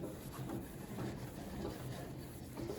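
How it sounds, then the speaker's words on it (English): A rag polishes the last coat of wax off a fuselage skin mold with a steady, close rubbing hiss that stays continuous and even throughout, with no speech. "here we are polishing off the last coat of wax."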